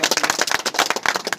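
A small group clapping to welcome local officials, quick uneven bursts of hand claps close by with a busy, slightly rhythmic feel, no talking over it.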